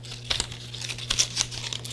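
Crinkling and soft tearing as a Cricut infusible ink transfer sheet, a paper-like material, is weeded by hand, with several sharp crackles in a short burst.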